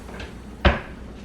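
A kitchen drawer slides open with a single sharp, close knock and rattle, preceded by a faint scrape in a quiet room.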